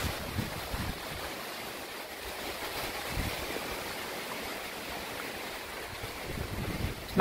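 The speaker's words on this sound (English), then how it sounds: "Oh, listen to the wind." Steady broadband wind rushes through autumn woods during an incoming nor'easter, a continuous roar with slight gusty swells and no voices.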